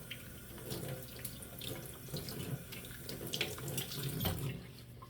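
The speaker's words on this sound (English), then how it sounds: "this definitely needs to be rinsed. So let me just rinse it." A kitchen faucet runs steadily as food is rinsed under it for a chicken, rice and bean soup, a constant close splashing into the sink with slight surges, moderately quiet and with no talking.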